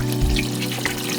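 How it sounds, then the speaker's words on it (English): Brita filtered water runs into a soup pot, a steady close pouring rush with a hollow humming tone as the pot fills. "Now we add the water and bring it to a boil."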